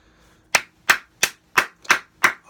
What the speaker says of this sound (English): applause to Bernard Hopkins on such a long career